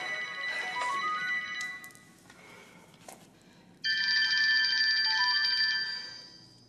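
A phone ringtone plays a melodic electronic tune, loud and close, pauses briefly with a faint click, then rings again in a sustained bright burst before fading.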